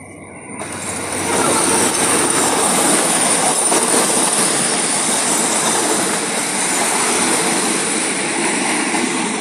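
A passenger train runs through Bang Kaeo station, rising quickly from a quieter start into a loud, sustained rumble and rattle of wheels and carriages that fills the whole stretch.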